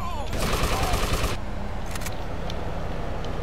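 Gunfire at police in an old Grand Theft Auto game: a rapid burst of shots for about a second, then a couple of isolated shots, over steady game ambience.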